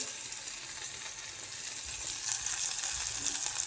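Spices such as chili powder tossed into hot oil in a pan for a home-style black bean curry, giving a steady, close hiss of frying that swells slightly louder toward the end.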